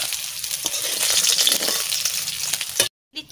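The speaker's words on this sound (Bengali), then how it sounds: "মাছ কেরম ভাজা করছি, লাল লাল করে ভাজা করছি" Pieces of snakehead fish fry in a pan with a loud, crackling sizzle and a few stirring scrapes, then the sound abruptly cuts to silence before briefly resuming.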